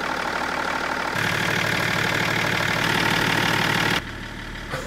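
A BMW 330d diesel engine runs steadily at idle, a continuous mid-low mechanical drone that holds for several seconds, grows slightly fuller partway through, and then drops off near the end.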